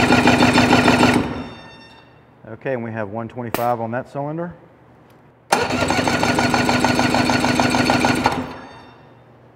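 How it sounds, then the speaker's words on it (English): A two-stroke outboard engine cranks over in a fast, rhythmic chugging burst during a compression check, stops while someone speaks, then cranks again for several seconds. "now we're ready to crank the engine over"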